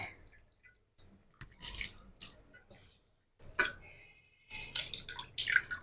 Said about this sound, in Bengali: এইভাবে সব জল ঝরিয়ে ঝরিয়ে আমি তুলে নেব